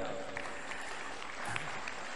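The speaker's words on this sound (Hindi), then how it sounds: "अब बेटों के लिए ताली बजाओ भाई।" An audience at a spiritual discourse session claps steadily for the boys, a dense, continuous patter of hands that fills the whole stretch without a clear pause.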